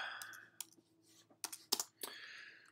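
Calculator keys being pressed one at a time: a string of sharp, close plastic clicks in irregular rhythm, with quiet gaps between taps and no talking.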